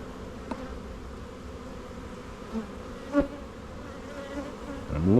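Honey bees buzz continuously around an open beehive during an inspection, a dense, close droning hum with a few brief louder passes and soft handling knocks, and no talking.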